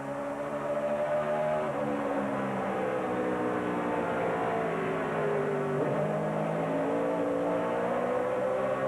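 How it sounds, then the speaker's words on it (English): Onboard sound of a NASCAR stock car at the 2008 Food City 500, its V8 engine roaring steadily and loud throughout, pitch holding with a brief dip and recovery as it runs close behind another car. "we're riding with Tony Stewart. It's pulled him right up to the rear bumper of Clint Boyer."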